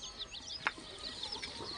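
Black hens and brown roosters cluck faintly in a poultry yard. One short, sharp cluck stands out against a quiet, hissy background.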